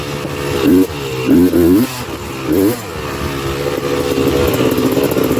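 A Honda TRX330R ATV engine revs up and drops back in several loud, close bursts while riding, then settles into a steady buzzing drone.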